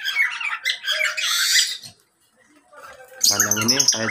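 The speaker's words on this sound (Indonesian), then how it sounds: "Itu jalak Suren." Asian pied starling calls in an aviary, loud bright chirps and whistles in bursts at the start, a brief pause, then a strong harmonic call near the end.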